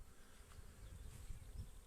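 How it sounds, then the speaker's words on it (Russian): Honey bees buzz around hives at an apiary on a mild spring day, a steady, faint, dense hum with no voices. "Пчелки, как видите, работают."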